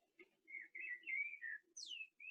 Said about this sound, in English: Yes, we have birds singing.